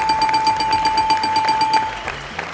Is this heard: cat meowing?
no